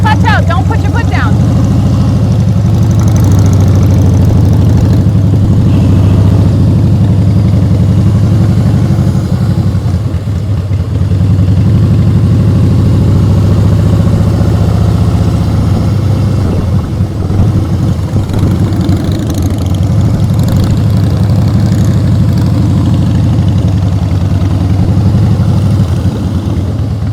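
A motorcycle engine runs steadily through riding practice, a continuous low rumble with slight throttle swells, while someone talks over it giving clutch and throttle instructions.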